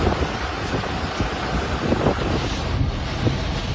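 Strong typhoon winds buffet the microphone along the shore at Dimasalang as waves crash, a loud, continuous rumbling roar with gusty swells throughout.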